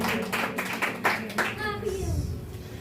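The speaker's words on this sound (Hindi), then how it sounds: "जोरदार तालियां बजाते हैं उस कुदरत वाले नाम के लिए" Congregation at a prayer meeting clapping hands, a few loud close claps in a short burst before a voice begins speaking.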